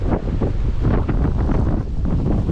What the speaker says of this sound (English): wasn't really expecting a high wind or any of this today